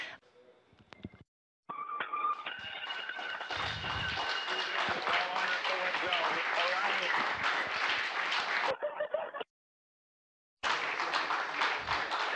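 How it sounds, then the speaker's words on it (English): A crowd cheers and applauds in a mission control room when Boeing's Starliner capsule lands, a sustained wash of clapping and voices broken by abrupt cuts to silence. "Lots of cheering here in the room."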